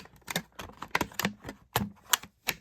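Scissors or a blade snipping through the plastic blister packaging of a WWE Mattel Retro Jeff Hardy action figure: a quick, irregular run of crisp clicks and crackles, close up.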